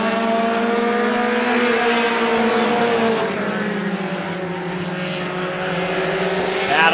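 Race cars roar around the Star Speedway oval in a Roadrunner heat, engines whining loudly and sweeping in pitch as they pass, with a crowd-like wash beneath and no talking.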